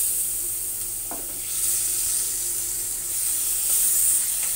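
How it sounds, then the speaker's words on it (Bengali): Jiyal fish frying in a frying pan, a steady high hiss of sizzling oil close by with faint stirring clicks, no voices. "এখন আমি মাছটা ভেজে নেব।"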